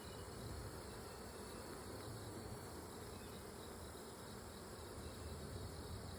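Honeybees hum continuously during a backyard hive inspection, a dense, even buzz close by that holds steady from start to finish with no voices.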